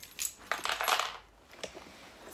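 A schoolgirl's keychain being handled, with bright metallic jingles and clinks in quick clusters, close and fairly quiet, then fading to a few faint taps.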